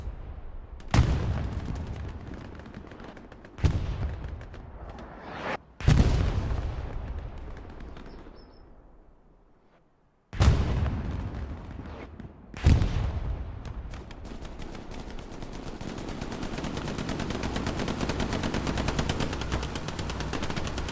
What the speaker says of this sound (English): Ray, missing the shots.